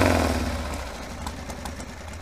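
A 1979 Harley-Davidson Ironhead Sportster engine runs just after starting, a close, throbbing mid-pitched idle that eases slightly lower across a couple of seconds with no voices.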